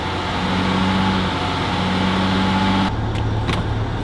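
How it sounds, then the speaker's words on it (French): A car with an automatic gearbox sits in neutral or park while its engine is held at about 2000 rpm, a steady mid-pitched hum that drops abruptly near the end as the revs fall back. "on se met soit en N soit en P et on vient monter vers 2000 tours"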